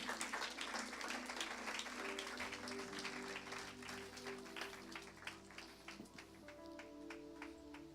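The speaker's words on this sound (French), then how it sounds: "Clap for the Lord if you've been blessed." A church congregation clapping together in a steady, layered patter of many hands, with faint voices and music underneath.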